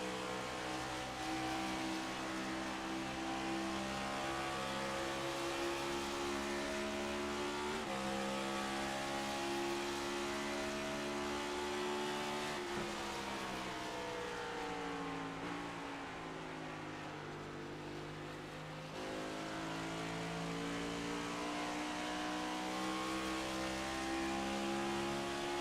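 Race car engines roar through a circuit race at Motegi, a loud, sustained drone with rising and falling revs as cars shift gears and pass one another, with no voices.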